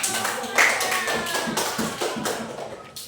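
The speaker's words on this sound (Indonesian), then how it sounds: "Ayo beri tepuk tangan untuk" A small classroom group of children claps in quick, rhythmic bursts close by, with voices mixed in.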